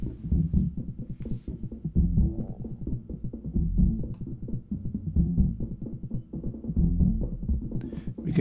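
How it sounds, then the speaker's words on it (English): Real drum kit processed through the Airwindows Distance3 plugin, dry with no reverb, playing a steady beat of dense low thumps and kicks, muffled and distant-sounding, alone without talking. "And there's now real drums."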